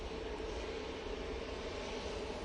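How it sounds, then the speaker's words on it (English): Etihad Airbus A350-1000 airliner at Manchester Airport, a steady broadband engine roar held at an even level throughout, moderately distant with no talk over it. "So, there we go, the Etihad A350 1000 with us."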